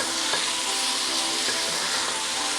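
Spinach and turnip sizzle and fry steadily in a pan while being stirred, a continuous close hiss throughout with no talking.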